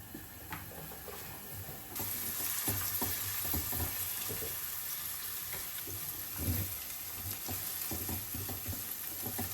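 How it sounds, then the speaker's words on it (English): Steady crackling sizzle of onions frying in a pan, continuous and fairly close, with occasional stirring scrapes and no talking. "frying the onions."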